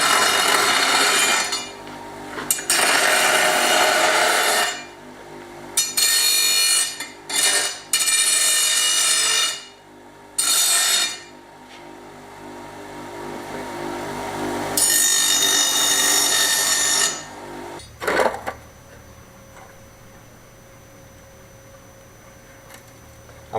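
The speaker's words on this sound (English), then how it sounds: "the bench grinder, and just clean up the sawn edges" A bench grinder cleans up sawn edges during a workshop renovation of an old Spanish finca. It comes in several loud, harsh grinding bursts separated by short pauses, then drops to a quieter steady hum at the end.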